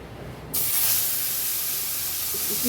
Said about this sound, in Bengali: এবার আমি ভাজবো এক এক করে আমি ওই তেলের মধ্যেই